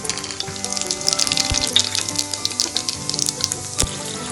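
Whole spices including bay leaf and cumin hit hot oil for a spicy matar pulao, bursting into a loud, close, crackling sizzle with sharp pops and spits throughout.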